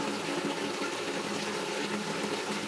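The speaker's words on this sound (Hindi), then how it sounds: "तो बाल्टी में जो है हमारा 15 लीटर पूरा पानी आ चुका है" Hot water from a geyser pours steadily into a 15-litre bucket in a bathroom, a continuous even rushing and splashing with no voices.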